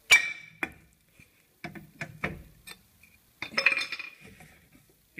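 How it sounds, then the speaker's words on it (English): A hammer strikes the rear brake drum of a Land Rover Freelander TD4 during a service, making several sharp metallic clanks and knocks in an irregular rhythm, close by, with no talking. "give it a whack with a hammer."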